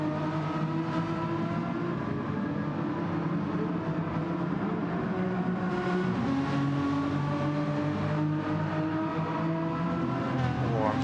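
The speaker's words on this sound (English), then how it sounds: "I'm hearing a lot of tyre squealing." Race cars in a racing video game set at the Nurburgring during an endurance event roar steadily with overlapping engine drones and rising revs, the sustained engine noise continuous and fairly loud throughout.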